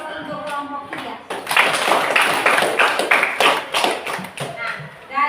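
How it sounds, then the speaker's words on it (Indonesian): Classroom applause for a student group: a burst of many hands clapping together in a brisk, uneven patter for about three seconds, fairly near, with a voice speaking before and after. "Mari kita berikan aplaus untuk kelompok 3."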